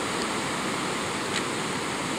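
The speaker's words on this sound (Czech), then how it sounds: "Krásný peřeje." Rushing river rapids on a salmon river in the mountains: dense, steady broadband roar of churning water, constant and close with no breaks, alone without voices.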